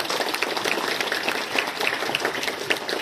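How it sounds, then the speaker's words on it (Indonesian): An audience at a school Islamic studies and arts olympiad applauds the student participants, producing a steady, dense patter of many hands clapping throughout. "Tepuk tangan buat anak-anak kita yang luar biasa."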